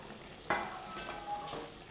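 Okra cooking in a covered pan gives a soft, steady sizzle, with a sharp metallic clink near the start as the lid comes up, then a light scrape of the lid or a utensil.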